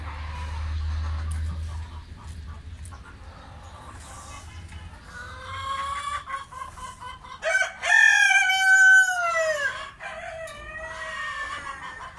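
Australorp hens and chicks cluck steadily in the background while a rooster crows loudly a couple of times nearby, with some faint ambient noise.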